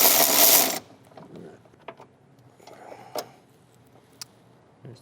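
A ratchet quickly loosens the 13mm battery hold-down bolt on a 2014-2019 Chevrolet Silverado. A short, loud burst of clicking comes first, followed by sparse, quieter metallic clicks and handling noises nearby.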